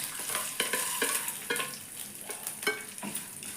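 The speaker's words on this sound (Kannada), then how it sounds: "ಚೆನ್ನಾಗಿ ಕಡಲೆಬೇಳೆ, ಉದ್ದಿನಬೇಳೆ 2 ಚೆನ್ನಾಗಿ ಫ್ರೈ ಆಗಬೇಕು." Chana dal and urad dal fry in hot oil in a pan while being stirred, a soft continuous sizzle broken by scraping spoon strokes, close and fairly quiet.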